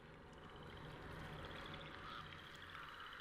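Ravens and crows in the horror game Alone in the Dark Grace Progue, faint, repeated harsh calls over a dense, steady ambient wash that fills the whole clip.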